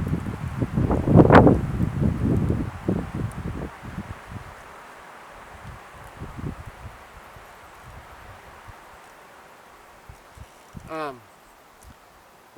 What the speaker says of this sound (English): Hold on, it's getting windy.